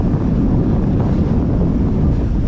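Strong seaside wind buffeting the microphone in a loud, continuous low rumble, with no other sounds standing out.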